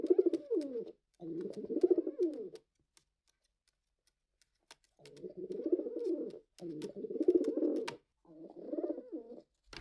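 Pet pigeons kept at home coo in repeated low rolling phrases, close and clear, with short pauses between bursts and a few faint clicks or ticks in the quiet gaps.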